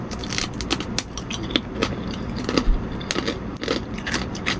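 Crunchy homemade pork skin chicharon, still warm, bitten and chewed close up, giving a steady series of crisp crackles and short snaps with no talking.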